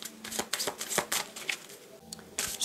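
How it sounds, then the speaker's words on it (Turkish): Tarot cards being drawn and handled from a deck, a quiet run of soft flicks, slides and riffling snaps in uneven rhythm, close and faint. "buradan bir kart çekelim bakalım neler gelecek senin için"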